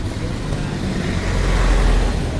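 Motorized tricycles pass on a busy road, a steady low engine rumble and roadway noise that swells slightly toward the end, with no clear talk over it.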